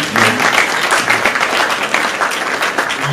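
Audience applause fills a theatre hall at the Palais de Lomé, a dense continuous wash of many hands clapping at steady loudness, with faint voices underneath.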